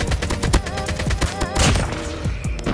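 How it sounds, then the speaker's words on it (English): Gunfire rings out repeatedly in COD Mobile during a ranked Gungame match, sniper shots mixed among sharp reports in an irregular volley, loud and close with game effects layered over it. "Where is this sniper spamming shots from?"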